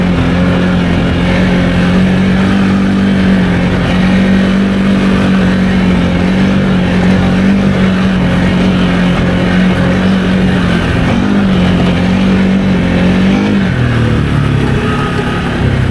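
2023 Can-Am Outlander XMR 700 ATV on 32-inch Aztex tires with the sway bar removed, riding under a loud, steady engine drone close up, pitch holding level and then dropping near the end.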